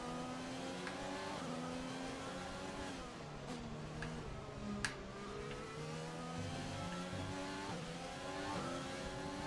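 In the F1 2020 video game, a Formula 1 race car's engine revs hard and continuously as it re-accelerates over kerbs, its pitch climbing and dropping through gear changes with brief rattling bumps.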